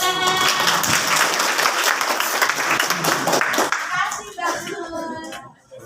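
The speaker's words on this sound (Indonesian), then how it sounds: "Kita semua tepuk tangan." An audience at a school industrial visit in Surabaya bursts into loud, dense applause of many clapping hands, which tapers off and thins out over the last couple of seconds.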